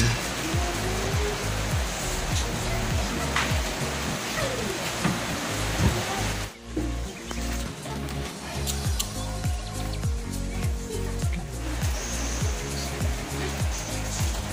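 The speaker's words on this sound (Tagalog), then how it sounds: "Ulan ngayon." Steady rain falls throughout during a repair of a Pensonic CRT television with a burned flyback cord, a dense continuous hiss with low thumping drips and some faint background activity.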